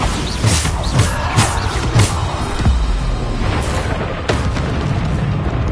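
Bombarda blasting spells go off in Hogwarts Legacy, a run of loud booming explosions with sharp bursts at irregular intervals over a dense, rumbling battle din.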